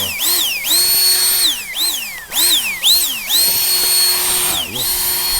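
A portable 2000W turbo fan blower runs close and loud, its high motor whine repeatedly spinning up and winding down in rising and falling sweeps as it is revved.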